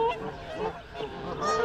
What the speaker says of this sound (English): Look at this geese throwdown.